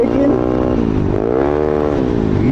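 A Yamaha Aerox scooter engine with a 232 build runs loud and close during a break-in test, with a steady hum and a slight rise and fall in pitch.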